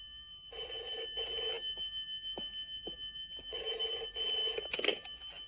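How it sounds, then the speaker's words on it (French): An old-style telephone bell rings in two long trilling bursts separated by a short pause, heard clearly indoors with no one speaking. "téléphone."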